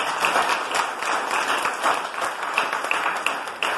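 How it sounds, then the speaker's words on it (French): Conference audience clapping enthusiastically for a speaker at a teachers' celebration, a dense, continuous wave of applause close by, sustained throughout with no voices breaking through. "n'a demandé un gros applaudissement"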